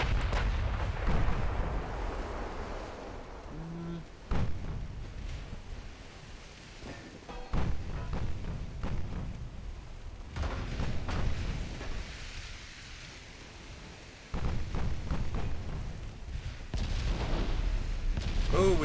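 Battleship guns firing in Ultimate Admiral Dreadnoughts, heavy booming salvos repeating every few seconds over a constant low rumble of sea and distant shellfire, with no talk.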